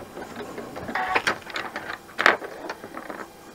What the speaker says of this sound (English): and then we're going to stitch our final seam